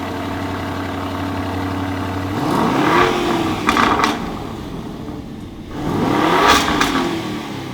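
A car engine idles, then revs twice in its Corsa drive mode, each rise a loud swelling roar with crackles before settling back, heard close and alone.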